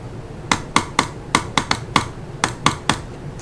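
Sharp mouse clicks during a Cookie Clicker game, about a dozen crisp, close, loud clicks in a rough marching rhythm with short gaps and no talking.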